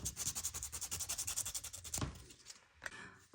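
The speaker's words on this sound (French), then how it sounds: "ma petite lime à ongles et je vais venir tout simplement limer mon bois" A small nail file rubs back and forth across a piece of wood in a fast, even rhythm of rasping strokes, close and fairly quiet, then stops with a few faint scrapes.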